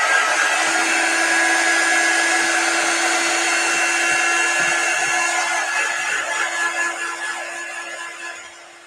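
A hair dryer blows steadily and loudly up close as it dries a coat of chalk paste, with a constant whirring hum that eases slightly toward the end.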